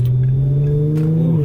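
A Nissan VQ engine revs in a short, loud, steady drone with a strong low hum and rising overtones, while a voice briefly exclaims over it.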